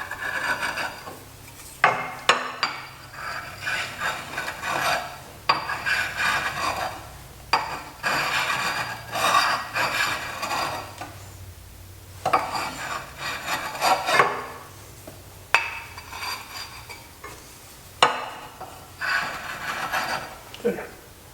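A steel turning scraper is rubbed on an oil stone in repeated rasping strokes with short pauses between them, close and moderately loud, while someone talks over some passages.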